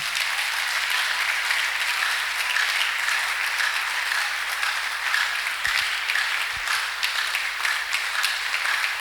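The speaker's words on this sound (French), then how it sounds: "Est-ce que nous pouvons encore acclamer pour le Seigneur?" A church congregation applauds, a dense, steady wash of many hands clapping throughout, loud and sustained with no talk over it.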